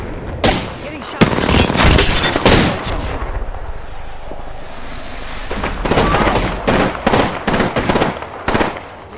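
Video game gunfire hitting the player: loud bursts of rapid shots and heavy impacts in irregular clusters, with brief pauses between volleys.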